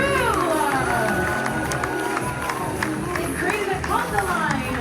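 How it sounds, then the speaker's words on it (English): An audience on a cruise ship cheers and whoops for the crew as they dance down the aisles, a dense, sustained wall of crowd noise with excited voices throughout. "One more time, huge cheer for the Beyond crew!"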